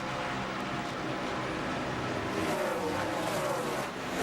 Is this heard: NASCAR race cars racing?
yes